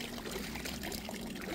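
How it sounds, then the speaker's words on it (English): Water pours from a road drain into Wealdstone Brook, a soft continuous trickling and splashing, faint and steady with no voices. "Quite a bit of water still coming down from this drain on the right-hand side"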